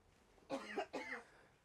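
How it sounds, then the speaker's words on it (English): Two quick, soft coughs close together, heard alone against a quiet background. "it's okay, you can cough"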